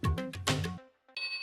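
An office telephone rings in a few short electronic bursts, loud and close, ending after a brief pause in a different, higher tone.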